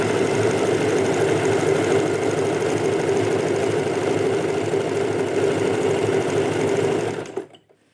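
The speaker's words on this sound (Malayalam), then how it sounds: "നമ്മൾ പിടിച്ചിട്ട് സ്റ്റിച്ച് ചെയ്യാൻ ശ്രമിക്കാം" An overlock sewing machine stitches fabric with a loud, steady, close mechanical whirr that runs unbroken for several seconds before winding down and stopping.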